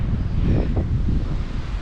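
Strong wind roars steadily, buffeting the microphone with low rumbling gusts throughout, with no voices.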